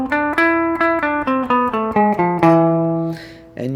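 A guitar plays an E Phrygian dominant scale, one clear picked note after another in an even stepwise run, closing on a sustained low note and a final pluck, loud and close with no talk.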